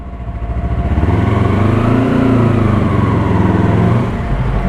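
A Yamaha R3 sport motorcycle with an Akrapovic exhaust idles loudly nearby, then its pitch rises and falls in a steady revving sweep before settling back to a rough, low idle.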